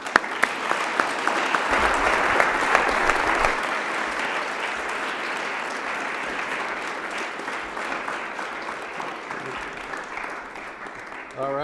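An audience at a land conservation talk applauds to welcome speaker Jim Levitt, a loud, full burst of clapping that swells early and then gradually thins and fades out.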